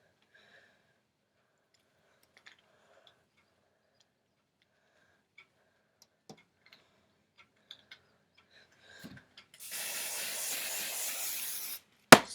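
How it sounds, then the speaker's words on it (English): After quiet scattered clicks and small handling sounds, an aerosol spray hisses in one steady burst for about two seconds, close by, ending with a click. "Just gonna spray my hair again, smooth it, spray the bun and the base."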